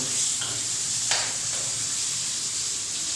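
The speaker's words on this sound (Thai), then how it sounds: "ให้น้องสาวนะฮะทำการผัดนะฮะกะเพราหมูแรบนั่นเอง" Pork is stir-fried with holy basil on a gas burner, a steady close sizzle and hiss with a scrape of the spatula stirring in the pan.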